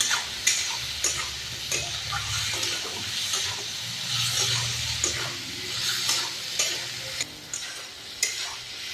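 Ginger garlic paste fries in a pan with a constant crackling sizzle, broken by frequent rhythmic spatula scrapes and taps against the pan, close and fairly loud, with no talking.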